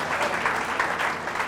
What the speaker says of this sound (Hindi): क्यों ना ताली बजाएं।